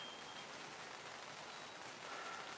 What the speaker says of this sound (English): I think it's just starting to drizzle now again.